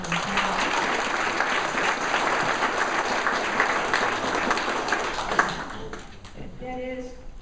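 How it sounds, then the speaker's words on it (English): Audience at a professional standards committee report meeting applauding committee members, sustained dense clapping for about six seconds before tapering off, with a voice and a brief tone near the end. "Please give them a nice round of applause."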